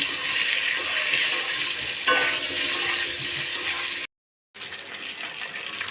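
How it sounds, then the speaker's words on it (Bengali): Potatoes sizzle in a pan of oil seasoned with cumin seeds, a steady close hiss with an occasional stir, then a brief silent break before the frying resumes. "এবার আলুটাকে সুন্দর করে ভাজা ভাজা করব"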